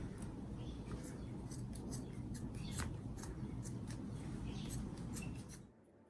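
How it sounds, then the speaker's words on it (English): Scissors snip through the bottom hem of an old t-shirt in a quiet indoor space, giving a run of faint, close, crisp cuts and rustles that stop abruptly near the end. "You cut the bottom hem of the shirt in two, so it's no longer a loop."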